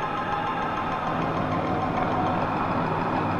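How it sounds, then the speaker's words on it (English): A boat engine runs at full throttle, a dense, steady, knocking roar that fills the whole stretch without letup. "She's on full throttle. But the engine doesn't respond."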